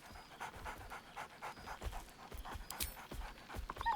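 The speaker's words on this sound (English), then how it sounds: "Scratch barks merrily in something like agreement." The dog Scratch from Baldur's Gate 3 pants in quick, rhythmic breaths close up, with short yips and a faint whine near the end and no talk.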